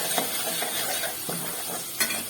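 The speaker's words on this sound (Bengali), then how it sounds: "ফেটিয়ে রাখা টক দই দিয়ে আমি কিন্তু আবার ভালো করে এটাকে কষবো" Masala and beaten sour yogurt are stirred and sautéed in a pan for cauliflower roast, with a steady close sizzle under intermittent scraping and spoon-against-pan clinks, no voices.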